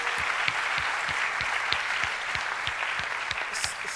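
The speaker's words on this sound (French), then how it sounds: "On va les applaudir pour ça." An audience at a youth digital festival gathering claps steadily, a dense continuous applause with sharp individual claps close by, sustained evenly for several seconds.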